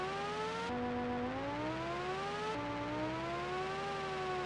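Engine note from a Tecmo video game racing section, altered with reverb inside a tunnel: a steady, loud synthesized tone that drops in pitch and then climbs gradually, twice over, with no talk.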